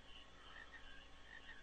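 Frogs croak continuously in a Final Fantasy IX marsh area, a steady layered chorus of repeated calls that stays moderately loud and even throughout, with no voices over it.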